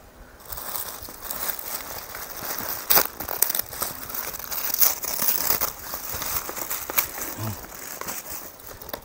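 Paper wrapping around a MAC Studio Fix product being peeled open, giving steady close crinkling and crumpling with a few sharper rustles and tearing bursts throughout, with no talking.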